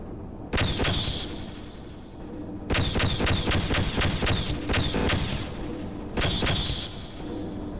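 Bursts of automatic gunfire at Vortigaunts in Half-Life: a short volley, a pause, then a long sustained stretch of rapid shots and a final burst, loud and close with no talking.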